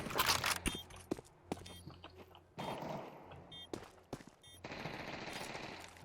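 Bursts of automatic gunfire and shots in Counter-Strike 2 on the Dust 2 map, loud at the start then fading into intermittent shots and footsteps, with quieter stretches of background game noise.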